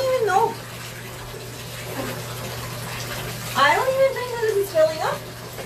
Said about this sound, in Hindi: यहाँ पर देखो यार ये पानी भर भी रहा है कि नहीं